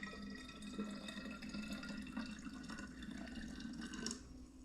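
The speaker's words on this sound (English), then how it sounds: "then add the boiling water to it" Boiling water pours steadily into a jar, a soft continuous splashing and trickle heard close by and fairly quiet.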